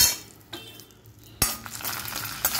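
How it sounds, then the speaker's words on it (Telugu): Cashews and other dry fruits fry in two tablespoons of ghee in a pan, a soft broadband sizzle under sharp metallic clinks and scraping stirs, with one loud knock of utensil against pan. "దాంట్లో ఒక 2 టేబుల్ స్పూన్ నెయ్యి వేసాను. ఫస్ట్ డ్రై ఫ్రూట్స్ ఫ్రై చేసుకున్నాను."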